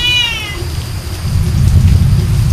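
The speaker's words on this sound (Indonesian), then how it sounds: "Kucing guys. Kucing dari mana ini ya?" A single short cat meow at the start, followed by steady low rumbling background noise.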